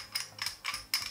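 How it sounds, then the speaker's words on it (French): Metal hilt of a Solaari lightsaber being unscrewed, giving four short, evenly spaced ratcheting clicks, close and fairly quiet with no voices. "Donc, on dévisse."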